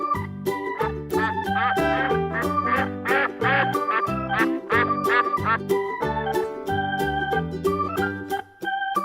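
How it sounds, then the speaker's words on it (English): Ducks quack in repeated short nasal calls, mixed into a busy, steadily pulsing musical backing that stays prominent throughout. "Duck."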